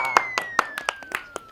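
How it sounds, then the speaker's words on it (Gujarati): A handful of sharp hand claps, roughly eight spread evenly over a second and a half, with a faint steady tone gliding underneath, from the audience at a Gujarati village wedding comedy skit. "તાળીઓના ગડગડા"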